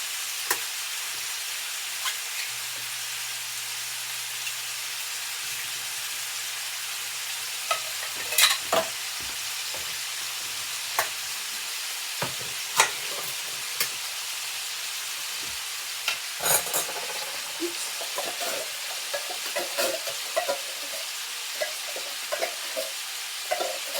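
Tomatoes and tomato sauce frying in a pot on medium-low heat, steady close sizzle with scattered spoon scrapes and clicks as the food is stirred, no voices.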